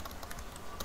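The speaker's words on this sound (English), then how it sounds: "Let's just type it" Quick, light keystrokes on a computer keyboard while a PowerShell command is entered in Windows 10, a short soft run of close taps with no talk.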